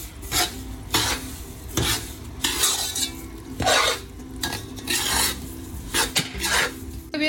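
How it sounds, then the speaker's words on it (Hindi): Roasted gram flour being stirred into semolina for homemade panjiri, a spoon scraping and rasping against the pan in repeated strokes every second or so, close and fairly loud with no talk. "वो अब हम इस सूजी के अंदर ऐड कर देंगे और इसको अब अच्छी तरीके से हम मिक्स करेंगे"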